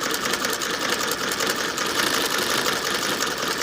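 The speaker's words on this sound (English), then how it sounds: "This Frister and Rossmann machine can wind a bobbin while it's stitching" A Frister and Rossmann hand-crank sewing machine stitching while winding a bobbin gives a steady, close, fairly loud mechanical whirring and rapid clatter with no talking.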